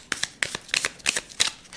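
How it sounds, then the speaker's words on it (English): Tarot cards are riffled and shuffled in quick, crisp bursts, about half a dozen rapid flutters close up, with no talking over them. "Okay, one more shuffle. One more shuffle."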